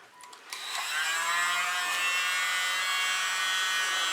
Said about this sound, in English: Let's use my little blower.